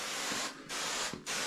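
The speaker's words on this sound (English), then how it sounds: "So since I've already pumped this up, I can go ahead and spray it on." A pump sprayer mists cleaner onto shower glass in two sustained hissing bursts, each about half a second long with a brief pause between, close and fairly loud.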